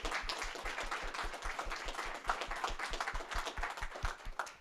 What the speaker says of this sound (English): why don't we give our panel a huge round of applause